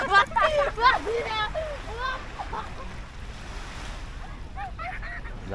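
Surf and gusty wind wash over Atami Sun Beach in Japan, with people talking and a voice over the steady roar of waves.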